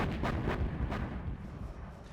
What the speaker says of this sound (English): Artillery coming in from LoGicA.